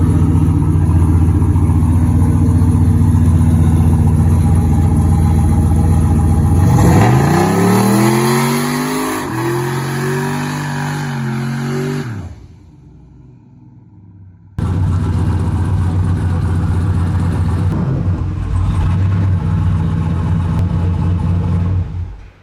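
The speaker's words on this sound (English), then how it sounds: "What's the point in having a shop truck with a turbo that's fun and does burnouts if you don't go pick up parts with it and do burnouts?" Turbocharged shop truck revving hard and doing burnouts, a loud sustained engine roar that climbs and falls through several sweeps, then cuts out briefly before a second loud roaring run, close by.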